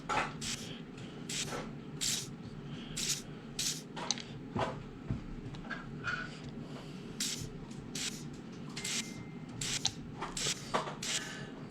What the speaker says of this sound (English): And might as well spray the outside of them real fast too